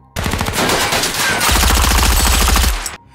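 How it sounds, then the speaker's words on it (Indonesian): In an action film, men fire rapidly at a car, a dense, loud burst of automatic gunfire with rattling repeated shots that lasts nearly three seconds and then stops abruptly, with no speech. "anak buahnya yang ada di luar segera menembaki mobil tersebut"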